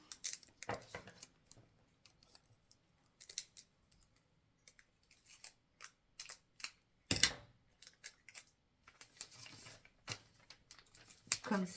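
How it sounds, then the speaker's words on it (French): Short crackling rips and pats as adhesive tape is pulled and pressed onto fabric during dressmaking, coming in sparse irregular bursts with quiet gaps, close and fairly soft. "Je remets du scotch"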